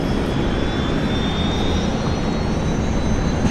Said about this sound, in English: I think we got a Fokker down here pushing back.